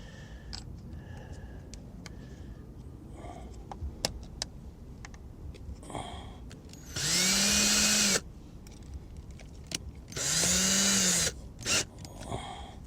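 A power drill whines up twice in loud, sustained bursts of about a second each as it bores a pilot hole during an underwater boat inspection, with quiet clicks and rustling between runs.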